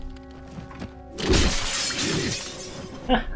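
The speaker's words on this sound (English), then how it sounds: "Until you smash those mirrors." A mirror smashed in the Kingdoms of Amalur fantasy role-playing game: a single loud glass shatter bursts out after a quiet moment, followed by a ringing, tinkling tail of falling shards.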